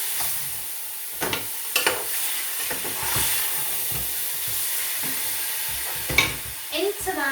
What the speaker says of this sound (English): Now I'm going to add in the tin of tomatoes, give it a quick stir.